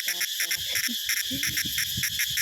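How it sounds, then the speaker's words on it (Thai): A loud, steady high-pitched drone from a male cicada runs continuously with a pulsing rhythm in a forest, while faint low thumps and scraping sounds sit underneath. "จักจั่นเริ่มห้องแล้วพี่น้อง"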